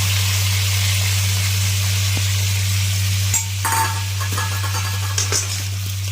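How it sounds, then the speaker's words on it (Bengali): Potatoes and ground spices, including salt, turmeric and cumin paste, sauté in a pan with a steady, close sizzle. A constant low hum runs underneath, and a few stirring scrapes and clinks come near the end. "মশলাটাকে একটু কষে নেব।"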